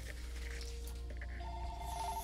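A telephone bell rings steadily over a constant low hum, the tones fairly faint and continuous with no voices heard.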